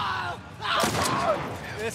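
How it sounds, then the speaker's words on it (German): Cheap revolver fired in The Last of Us Part 1 on PS5, a couple of sharp close gunshot cracks in quick succession within game sounds, with a voice speaking around them. "Viele Schüsse können wir nicht mehr haben, das ist nur ein billiger Revolver."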